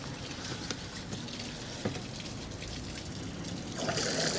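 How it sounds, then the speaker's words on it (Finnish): Water runs from an outdoor campsite tap in Spain in a steady trickling splash, with faint surrounding noise and a brief louder gush near the end. "Katsotaan, tuleeko tästä vettä."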